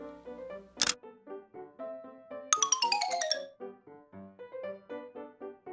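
A camera snaps a picture on a farm among goats and a pig, a short shutter burst followed by bright chiming tones and a descending sparkly flourish over light musical notes.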